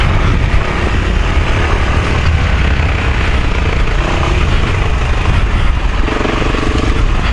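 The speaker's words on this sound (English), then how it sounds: "I do love the sound of a thumper" A single-cylinder thumper motorcycle engine runs steadily and loudly up close for the whole stretch, a dense low rumble with no pauses and no voices over it.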